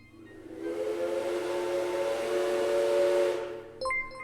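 A steam-style train whistle blares as a stream hype train alert, one long sustained hissing blast of about three seconds that cuts off abruptly and is followed by a short electronic chime, with no talking over it.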